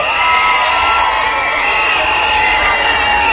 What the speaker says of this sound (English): let me give a hand of a round of applause to our young people